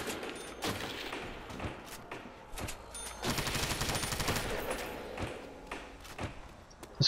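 Rapid automatic gunfire from a modded modern weapon in Call of Duty: World at War, on the Nacht der Untoten zombies map, rattling in dense bursts through most of the stretch with brief gaps and a heavier volley midway.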